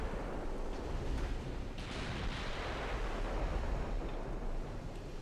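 Heavy 14-inch naval guns firing from a warship in the naval battle game Ultimate Admiral: Dreadnoughts, a dense, continuous low boom and roar under a steady wash like surf, with a brighter burst about two seconds in.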